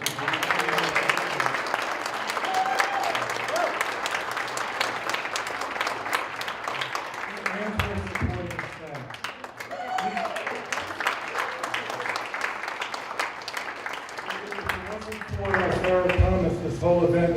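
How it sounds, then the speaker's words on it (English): Sustained audience applause for Director Sarah Thomas at a Scholarly Speaking 2016 event, a steady wash of clapping throughout with some voices and brief swells near the middle and end. "let's have a rousing round of applause for Director Sarah Thomas"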